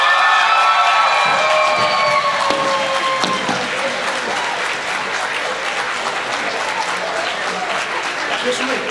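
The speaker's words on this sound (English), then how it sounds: "Please, a round of applause for them." A graduation audience at an international school ceremony breaks into loud applause mixed with cheering and whoops, a sustained crowd roar that continues strongly throughout.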